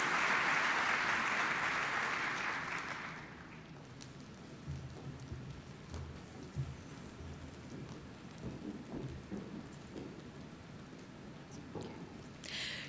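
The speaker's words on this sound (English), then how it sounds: "Let us give the biggest round of applause for A Million Dreams." An audience at an ASEAN-Indo Pacific Forum gala applauds, a loud burst of clapping in the first few seconds that fades into quieter crowd murmur and scattered noise.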